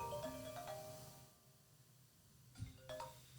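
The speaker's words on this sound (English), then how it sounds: "Phone ringing, so I thought that was on silent." A phone rings indoors in a quiet room, two short bursts of electronic tones separated by a pause, fairly soft.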